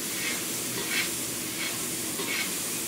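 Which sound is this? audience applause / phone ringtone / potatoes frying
potatoes frying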